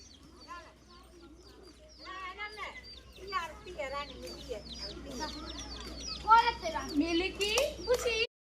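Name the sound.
chickens clucking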